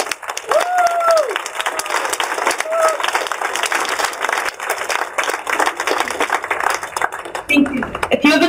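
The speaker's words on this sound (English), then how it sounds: "And everybody, could you give Alaa a round of applause?" A crowd bursts into sustained applause, dense clapping filling the space for several seconds, with a few whoops near the start.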